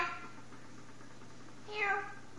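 A cat meows twice, a short mew at the start and a louder, drawn-out meow near the end, close by, with a quiet stretch between the two calls.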